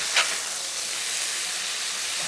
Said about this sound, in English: Never lose that sizzle.